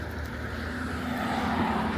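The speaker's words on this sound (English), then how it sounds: "I'm gonna let this car pass." A car passing on a suburban street in Henderson, Nevada, a low engine and tire rumble that slowly swells as it nears, fairly faint under steady outdoor ambience.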